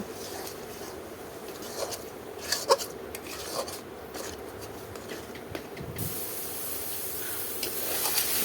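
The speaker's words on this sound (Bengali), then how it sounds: "ভালো করে নাড়াচাড়া দিয়ে নামিয়ে নিতে হবে" A shrimp bharta mixture with salt is stirred in a pan, giving a soft hiss with scattered light scrapes and clinks of utensil on metal, close and moderately quiet, louder at the end.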